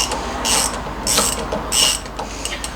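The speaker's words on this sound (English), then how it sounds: "we'll use a ratchet this side to undo the nut" A hand ratchet undoes a nut on an MGB wheel hub while a breaker bar holds the bolt, three loud, close bursts of rapid clicking at an even pace with short pauses between strokes.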